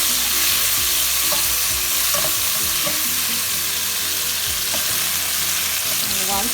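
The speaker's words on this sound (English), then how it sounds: "I'm going to try to fry these as well" Eggplant and tomatoes fry steadily in a pan, a dense continuous sizzle with occasional stirring scrapes and clinks throughout, no one talking.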